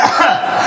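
A single short cough on stage at a Hindi/Nepali comedy poetry gathering, close and fairly loud, lasting well under a second.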